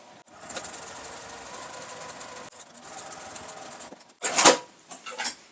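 A sewing machine back stitches fabric in short bursts of fast, whirring stitching, with pauses between runs and a louder clack near the end.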